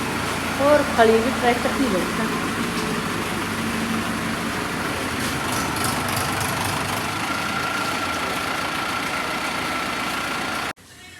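A tractor engine idles with a constant low drone while someone talks over it, and a few sharper sounds stand out near the start.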